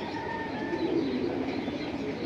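Pigeons kept for sale as flying birds, cooing close by in a steady low murmur of overlapping calls, with no talk over them.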